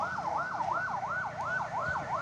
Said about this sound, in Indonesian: Ambulan hilir mudik